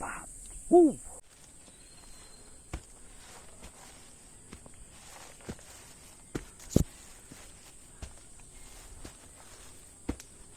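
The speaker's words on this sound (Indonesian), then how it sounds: "Ada kera tuh, bunyinya gitu guys, monyet kayak burung tuh" A monkey in the mountain forest of Gunung Cikuray gives one short, bird-like hooting call near the start, followed by steady insect chirring and occasional footsteps on the trail.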